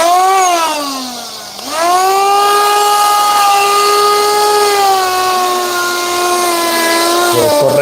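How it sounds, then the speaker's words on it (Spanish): A 60-grit flap disc grinds along the metal edges of a truck front-axle king pin part, a loud, continuous high whine that dips briefly as the disc is lifted and then settles into a steady sustained pitch. "de lija, rueda flap. Este es grano 60. Vamos, Cristian, a pasarlo por los bordes"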